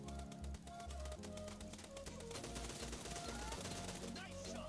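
Gunfire crackles in Battlegrounds Mobile India, rapid bursts of sharp shots that repeat steadily throughout over dense game sound and background music.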